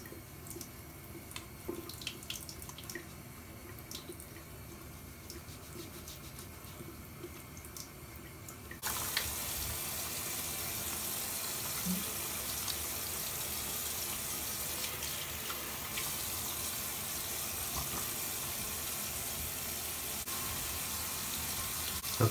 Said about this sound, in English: I have the water running super hot right now